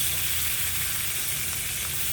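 Garlic and onion fry in a pan, a steady, close hiss of sizzling oil that stays even for two seconds with no talk over it.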